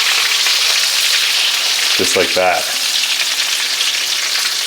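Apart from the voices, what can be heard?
lamb chops pan frying in grease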